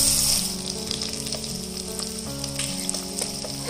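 Mutton with red chilli powder for rogan josh being stirred in a hot pan, giving a steady, loud, close sizzle with faint stirring scrapes throughout and no voices.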